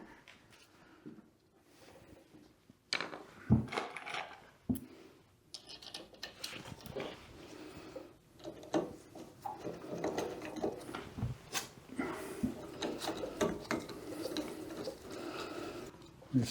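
Screws being driven and tightened on a Mr Heater 75,000 BTU diesel/kerosene forced air heater, with short ratcheting clicks, metallic taps and scraping handling noises in irregular bursts, fairly close and moderately quiet.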